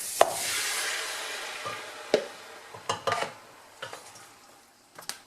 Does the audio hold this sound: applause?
no